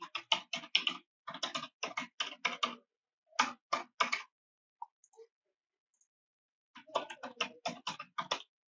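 Password being typed on a computer keyboard, crisp close key clicks in quick bursts with short pauses between them and a longer quiet gap before a final run of keystrokes.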